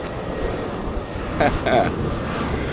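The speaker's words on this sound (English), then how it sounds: "Oh look, there's a plane coming into land." A fixed-wing airplane coming in to land passes overhead as a steady, moderately loud engine rumble that swells briefly, with talk over it.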